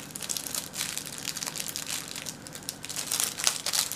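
Purple trim is glued around the edge of a Halloween scrapbook page, giving close, quiet crinkling and rustling of paper and trim with soft scratchy handling noises throughout.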